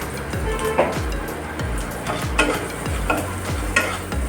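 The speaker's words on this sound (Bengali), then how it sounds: "দিয়ে আবারও ভালো করে কষানো হচ্ছে" A spatula repeatedly scrapes and stirs pabda fish curry with mustard sizzling in a hot pan, a rhythmic series of close scraping strokes over a constant frying hiss.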